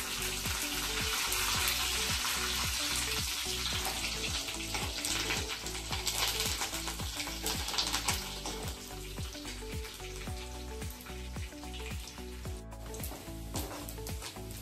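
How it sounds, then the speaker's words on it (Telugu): Hot oil crackles and spits steadily with dense popping bursts, a continuous close sizzle of mustard seeds, cumin, curry leaves and dried red chillies frying without any voices. "పోపు ఎగిపోయిందండి."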